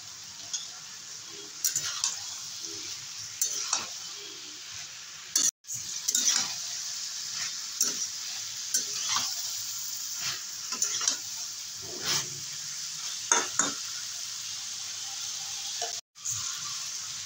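Fried bele fish gets stirred into a hot pan on a gas flame, soft sizzling under repeated scraping and clinking strokes of a spatula at an irregular rhythm, close and fairly quiet.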